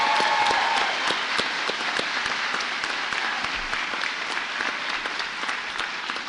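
Steady, full applause from a large commencement audience at Terra Community College honoring graduates with blue and gold honor cords, dense clapping sustained throughout without speech.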